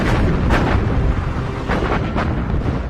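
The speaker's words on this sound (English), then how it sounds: "Baltimore and the destroyer escorts open up and pepper the island with explosive naval gunfire." Naval gunfire from the cruiser USS Baltimore and destroyer escorts pounds Makin Atoll, a dense rolling barrage of deep booms and blasts, with a couple of sharper reports standing out from the continuous rumble.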